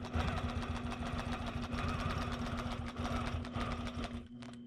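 Longarm quilting machine stitching a quilt panel, a steady mechanical whir with a fast repetitive needle rhythm and a constant hum, running continuously and loud before briefly easing off near the end.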